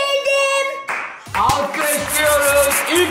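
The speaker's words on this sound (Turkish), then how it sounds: "Alkışlıyoruz." Clapping bursts out during a Turkish two-player card game round, a short run of handclaps mixed with cheering voices and a cheerful electronic jingle, close and fairly loud.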